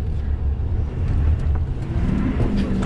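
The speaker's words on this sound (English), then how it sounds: "push the pedal down and the thing just takes off" Ford 6.7 Powerstroke diesel pickup accelerating hard from inside the cab, a loud, steady low engine roar and road rumble that builds slightly over a few seconds; no talking.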